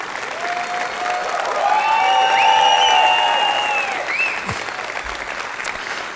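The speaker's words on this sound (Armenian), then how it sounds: "Մի հատ ծափարենք մեր հյուրերին բարձր ու շարունակենք առաջին ակումբն է" Loud, sustained applause from a studio audience at a comedy club television show, swelling to a peak and then easing, with a melodic music cue running through it.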